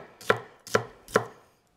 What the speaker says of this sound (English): it does help if you've got a really sharp knife, because it does make chopping a lot easier.